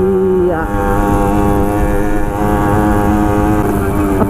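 A two-stroke motorcycle engine at a motor festival runs with a steady, loud, buzzing drone that rises slightly in pitch at moments and stays close throughout.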